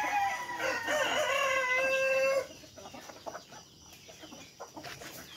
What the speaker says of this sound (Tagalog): Nagpapakain si nanay ng ano, ng mga manok.